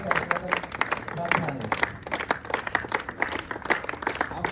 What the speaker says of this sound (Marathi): खूप जोरात टाळ्या वाजूया आपण त्यांच्यासाठी.